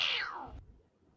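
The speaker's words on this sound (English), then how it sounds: "Yo, that cat sound was crazy." A cartoonish cat yowl from the 1974 comedy film Young Frankenstein, a single loud descending screech lasting about half a second, then cutting off abruptly into quiet room tone.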